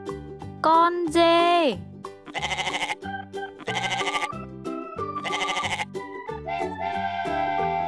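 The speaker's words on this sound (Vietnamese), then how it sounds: "Con dê." A goat bleats several times in a row with a wavering, quavering call, heard close over a backdrop of bright tonal music.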